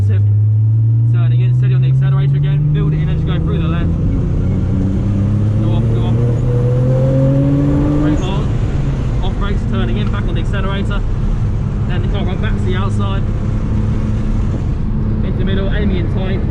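A Nissan GT-R engine drifting on a circuit, loud, rising and falling revs heard from onboard, with an instructor talking over it throughout.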